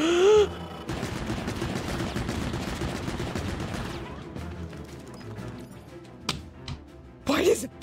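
A boss in the Pikmin 4 video game fires an assault rifle, a dense rattle of rapid shots lasting a few seconds and then breaking into scattered hits, with brief vocal outbursts at the start and end.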